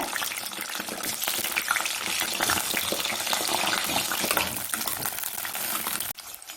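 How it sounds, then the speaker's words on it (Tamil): Eggplant fries in hot sesame oil, giving a dense, even crackling sizzle that holds steady throughout and cuts off abruptly near the end. "இப்போ நம்ம எடுத்து வச்சிருக்க கத்திரிக்காயை இதில் போட்டுடலாம் கத்திரிக்காய் நல்லா எண்ணெயில் வதங்கட்டுங்க"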